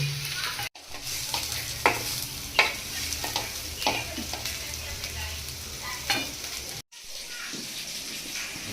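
Rava-coated fish frying in a pan as oil is poured over it, giving a steady sizzle with scattered sharp stirring and scraping knocks; the sound drops out briefly twice.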